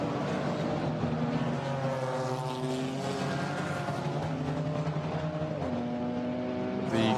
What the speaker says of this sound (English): grey Mercedes with the red flashes, tucked in behind Baz Schuten